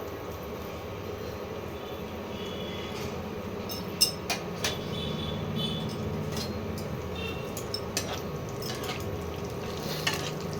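Butter heating in a pan with oil for a homemade lamb curry, giving a steady low sizzle throughout, broken by a few soft clinks and taps of a utensil against the pan.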